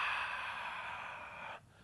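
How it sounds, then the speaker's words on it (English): A single long, soft breath drawn in while lowering into a squat, an airy hiss that holds steady and then cuts off sharply near the end, close and quiet. "Breathing in."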